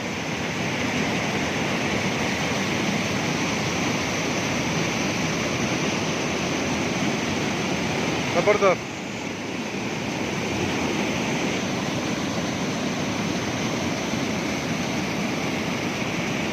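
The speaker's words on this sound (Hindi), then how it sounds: "यहाँ पे आप खड़े हों तो पानी की आवाज़ बहुत ज़्यादा है।" Canal water at Nandipur, Pakistan, pours down and rushes in a loud, steady roar that fills the whole stretch, with a brief exclamation from a man partway through.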